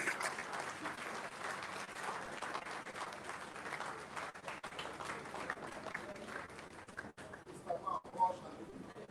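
Audience applause at an award ceremony, steady clapping from a large crowd that stays continuous and fairly distant, with voices mixed in underneath and a few louder claps toward the end.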